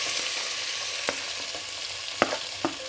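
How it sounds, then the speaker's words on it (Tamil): Finely chopped onions sauté in a pan, a constant close sizzle with a few crisp scraping clicks of a stirring spoon, loudest near the end, with no talking. "இந்த வெங்காயம் ஒரு 2 நிமிஷம் நல்லா வதங்கட்டும்."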